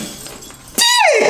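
A glass window shatters loudly as a man is thrown through it, a sudden crash followed by a bright cascade of falling shards that rings out and thins over about half a second.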